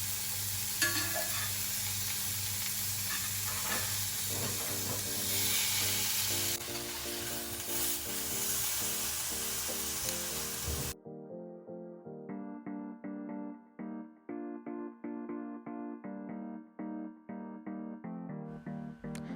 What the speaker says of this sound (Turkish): Baharatlama işlemini yaptıktan sonra etimizi kızgın tavaya alıyoruz. Ara ara çevirerek etimizin her yerini mühürlüyoruz.